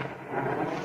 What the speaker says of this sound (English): A mortar. Fire!